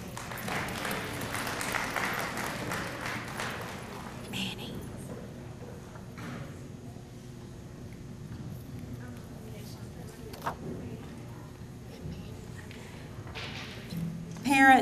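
An audience claps for kindergarten award winners at a school awards ceremony. The clapping is moderate and steady at first, then thins into a quiet room with scattered small noises, and swells again briefly at the very end.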